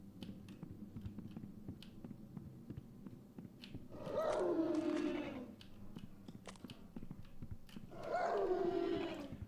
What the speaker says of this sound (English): I hear you howling.